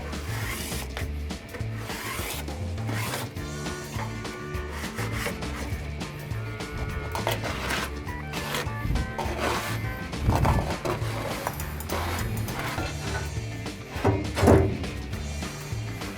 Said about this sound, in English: Scrape against the wall all the way through.